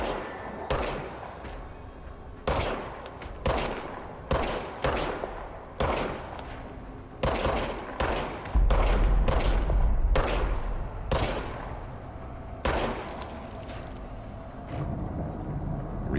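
Single gunshots in the game Control crack out one at a time at uneven intervals, each sharp and loud, with a heavier booming burst partway through and quieter gaps between.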